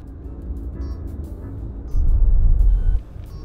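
Low engine rumble of a straddle carrier hauling a container in reverse in the VR game Hubris VR, swelling louder for about a second in the middle before easing back to a steady drone.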